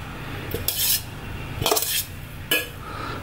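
Ground coffee spooned into a one-cup aluminium Bialetti Moka Express, with three sharp metallic clinks of the spoon against the pot spaced about a second apart over a quiet background.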